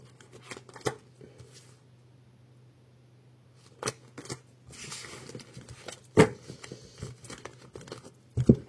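Tarot cards being drawn and handled, several sharp papery snaps and shuffling rustles spaced out over a steady low hum, close and moderately loud, with quiet gaps between.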